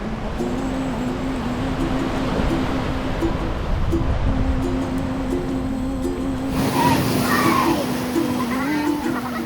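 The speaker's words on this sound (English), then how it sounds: "See those big waves out further, kid?" Ocean surf rolls and breaks on a Hawaiian beach, a steady wash of waves with a louder surge near the end, heard close by and without voices.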